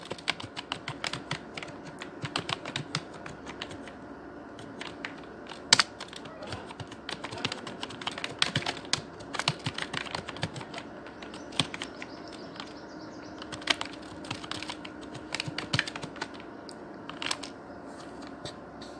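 Steady typing on a computer keyboard while a web form is filled in, with rapid irregular key clicks and occasional louder keystrokes running throughout, close and fairly quiet.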